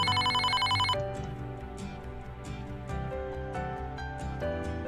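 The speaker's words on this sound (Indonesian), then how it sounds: "HP yang berdering itu adalah contoh dari bunyi buatan" A phone rings with a bright electronic trill for about a second, followed by a tinkling musical melody with plucked notes.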